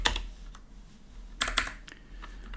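Close typing on a computer keyboard while writing Lua code, with scattered key taps and a couple of quicker bursts of keystrokes, alone at moderate volume.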